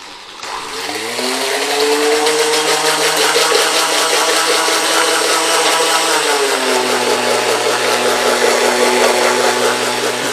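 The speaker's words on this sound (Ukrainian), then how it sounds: "Вливаємо сік. І вмикаємо міксер." A kitchen blender spins up and runs loudly and steadily, mixing poured juice, its motor pitch dropping slightly partway through as the load changes; no voices over it.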